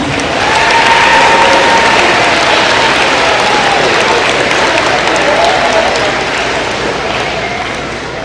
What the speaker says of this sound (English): Let's give all these students a round of applause.